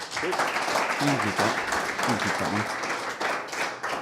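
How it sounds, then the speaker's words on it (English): A crowd applauds with steady clapping while a voice speaks over it, the applause holding at a fairly even level throughout. "Round of applause for Marty."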